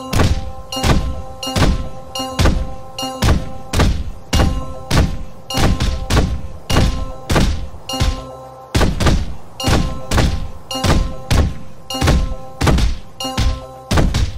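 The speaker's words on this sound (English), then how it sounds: "Those targets are exploding with every punch." Punches landing on a heavy bag in the fitness video game EA Active 2, a steady rhythmic series of loud, deep thumps, roughly one or two per second, with tonal game sounds under them and no talking.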